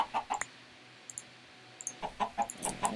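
Chickens cluck in a Minecraft modpack game, several short, quiet clucks in two clusters separated by a near-silent pause, with a few faint clicks in between.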